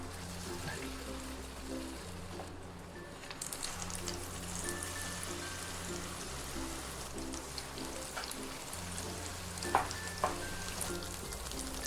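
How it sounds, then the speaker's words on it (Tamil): Batter-dipped suzhiyam dumplings deep-fry in oil with a quiet, even, rain-like crackle that holds steady throughout, over a faint low droning hum. "இப்போ இந்த பூர்ணத்தை இந்த பேட்டரில் போட்டு முக்கி நம்ம இப்போ எண்ணெயில் பொரிச்சு எடுத்துடலாம்"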